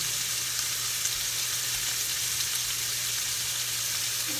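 Tomahawk pork chops searing in a hot pan, a dense, even hiss of sizzling fat that stays steady and close throughout, with no voices.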